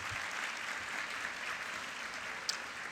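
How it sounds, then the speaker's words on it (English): An audience claps in a room in a steady, even burst of applause. It sounds faint and somewhat distant, with one brief sharper clap near the end. "give yourselves a round of applause for that"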